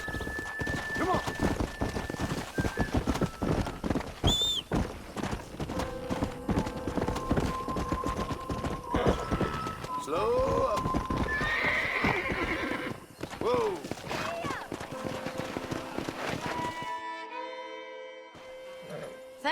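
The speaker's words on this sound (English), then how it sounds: "We got some fine horses." Horses in a western video game, with repeated neighs and whinnies over steady clip-clopping hooves, close and lively, while people talk at times.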